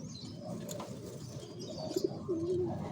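A racing pigeon bred for a South Derby race coos softly, with a few low murmuring calls near the end over faint background noise and light rustling.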